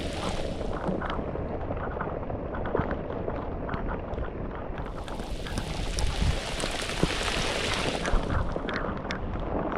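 Heavy rain pours down on a river around a paddler in a boat as a dense, steady roar with wind buffeting the microphone, close and continuous without speech.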